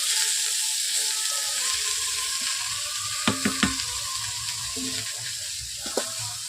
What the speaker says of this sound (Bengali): সবজিগুলোকে একটু নেড়ে নিচ্ছি।